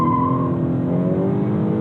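A 2020 Honda Accord 2.0T Touring accelerates hard as its tires spin and the traction control cuts in. The engine drones close by with a rising strain, and a rough tire scrabble runs through the short burst.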